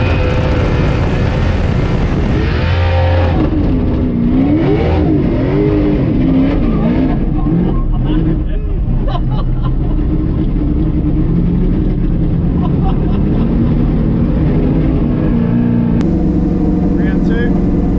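A 1000hp 598ci drift car engine revs and roars at Sydney Motorsport Park, its loud, continuous pitch rising and falling with throttle, with tyre noise and voices talking over it throughout.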